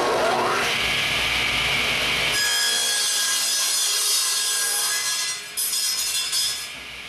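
A power saw shaves the edge off a store-bought wooden board while building a beehive body, a loud continuous whine that shifts pitch partway through as the blade bites into the wood and rings on briefly near the end.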